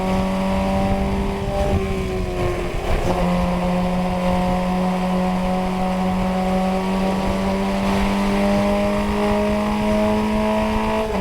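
A Formula Ford race car engine at Watkins Glen drones at high steady revs, loud and close from onboard, with a brief dip and recovery as the driver lifts while passing a lapped car.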